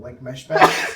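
A single short sneeze bursts out right after a man's brief words, close and fairly loud during a sports podcast discussion.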